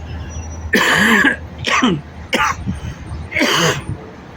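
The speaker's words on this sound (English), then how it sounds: "I got that cough in the hospital." Four loud, harsh coughs come close to the mic, spaced unevenly with short pauses between them and no talking.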